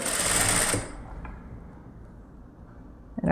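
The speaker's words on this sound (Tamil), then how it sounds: "முன்ன பின்ன நகந்துடாமல் சரி பண்ணிக்கிட்டே தைச்சிட்டு வாங்க" A sewing machine runs fast for under a second while stitching a canvas-backed blouse neckline, then drops to a quiet hum and near silence, with no voices.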